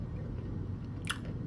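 Crunchy chewing up close on a gingerbread-spiced snack, a steady munching bed with a sharper crisp bite snapping through near the end, no talking.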